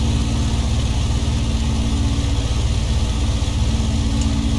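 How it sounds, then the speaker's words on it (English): Aircraft piston engine holding a steady run-up while the supercharger is checked, a loud continuous low drone with a fixed hum and no voices over it. "check the supercharger, looking for a bounce in the manifold pressure and a slight drop in RPM"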